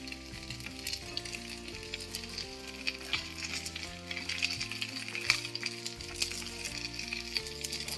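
Jilebi fish frying in oil, a soft steady sizzle with gentle popping and spatula scrapes, quiet and close, under background music with no speech.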